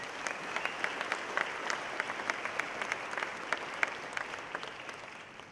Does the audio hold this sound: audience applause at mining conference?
yes